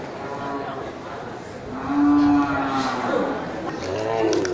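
Large cattle moo at a livestock market in Geurugok, with a long, loud low call rising in the middle and other bellows following amid steady crowd murmur and faint talk.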